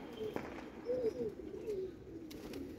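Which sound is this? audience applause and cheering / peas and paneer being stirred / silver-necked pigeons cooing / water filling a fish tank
silver-necked pigeons cooing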